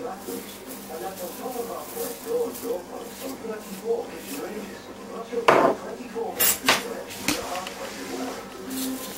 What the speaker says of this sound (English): Give it a stir again.